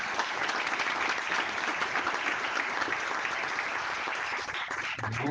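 Sustained audience applause after a talk at a national Indian-languages conference session, a dense, even roar of clapping from a large hall that holds steady before tapering slightly near the end.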